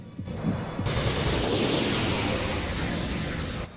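Continuous dense blasting from shots at orbs during a Panzer Dragoon fight against Sestren Exus, a loud, steady wall of noise lasting several seconds with no voices.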